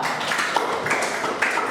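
Classroom of students clapping for a classmate, a short brisk patter of hand claps at moderate loudness with no talking.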